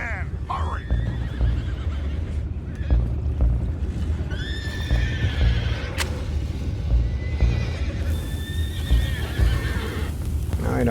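Horses in the video game Red Dead Redemption 2 whinny and neigh several times, with clip-clopping hooves and a rumbling game soundscape beneath, spread across the clip at close range.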